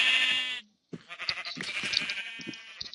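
Sheep bleating in the Minecraft video game, a short wavering bleat followed by a burst of choppy, broken animal and game sounds, fairly loud and close.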